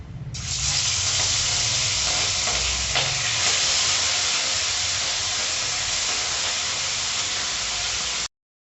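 Fish frying in a pan in a home kitchen, a loud, continuous broadband sizzle and hiss that runs steadily for about eight seconds and then cuts off abruptly, with no speech.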